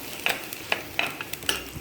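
Mutton biryani ingredients sauté in a pot with a faint sizzle beneath regular, evenly spaced metallic clinks and scrapes of a ladle stirring, about five strokes in quick rhythm, with no voices.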